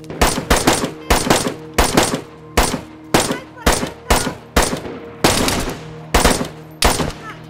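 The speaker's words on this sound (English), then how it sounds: "Oh, you're shooting." DayZ gunfire rings out as a steady series of about a dozen loud, sharp single shots spaced roughly half a second apart, each with a short echoing tail, close and unaccompanied.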